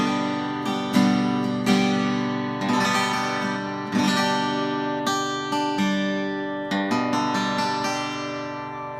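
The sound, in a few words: acoustic guitar chords with added ring-finger note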